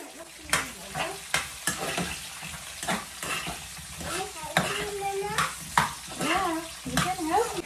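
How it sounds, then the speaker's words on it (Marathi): Cumin, mustard seeds, garlic, carrot and cauliflower sizzle in hot oil in a home kitchen pan, a steady frying hiss broken by repeated stirring scrapes, with a woman and a toddler talking over it. "तर सगळ्यात आधी मी जिरं, मोहरी, लसूण आणि कॅरेट आणि कॉलीफ्लावर तेलामध्ये छान परतून घेते."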